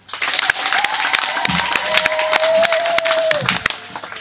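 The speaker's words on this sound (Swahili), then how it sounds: "Naomba tumpigie makofi." A crowd applauding a ward councillor of Nanguruwe, Mtwara, at a CCM political rally, loud dense clapping throughout with a few shouts and a sustained tone over it.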